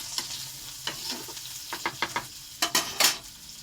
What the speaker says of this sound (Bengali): পেঁয়াজটা লাল লাল করে ভাজা হবে